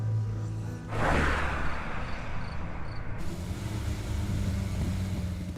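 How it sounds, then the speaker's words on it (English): A Soviet-era car, worn and prone to breaking down, drives along with a steady low engine drone and road noise, and a brief whoosh rushes up near the start before the rumble settles into a continuous hum. "My car is probably one of the last Soviet things in my life. It goes everywhere, but it breaks down all the time."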